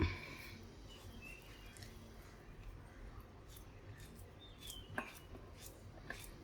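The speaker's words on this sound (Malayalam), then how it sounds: "എളുപ്പമാകാൻ വേണ്ടിയിട്ട് ഇച്ചിരി അല്പം ചെറുതായിട്ട് തന്നെ ഞാൻ അരിഞ്ഞെടുക്കുന്നത്" A knife chops ripe bananas into small pieces, giving faint, sparse taps on a board against a quiet kitchen background, with one sharper cut standing out late.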